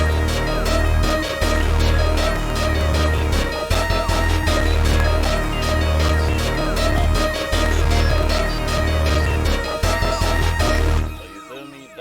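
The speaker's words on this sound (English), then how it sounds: "And then lastly we have just a pizzicato" Plucked pizzicato strings in a repeating melodic pattern, copied from a bell line, over a loud, dense hard trap beat built in FL Studio, with heavy sub bass and busy drums throughout before an abrupt stop near the end.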